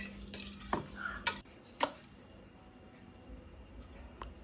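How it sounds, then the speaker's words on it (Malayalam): Curd is stirred into pineapple pulissery curry in a pot off the heat, with a few quiet scrapes and clinks of a spoon against the vessel, then near silence. "നന്നായി മിക്സ് ചെയ്ത് കൊടുക്കുക."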